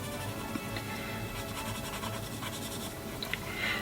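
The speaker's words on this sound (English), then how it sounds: "this is the Stabilo All black pencil" A Stabilo All black pencil scratches steadily across paper while dark areas are added to a drawing, a close, continuous soft scratching with no talking.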